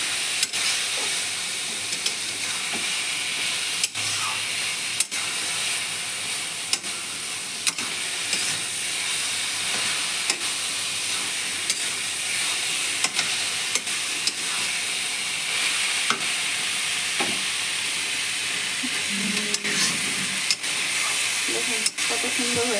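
Cabbage fries in a pan with a steady hiss and sizzle, and a spatula scrapes and stirs it in sharp, irregular taps, with a faint voice underneath at times.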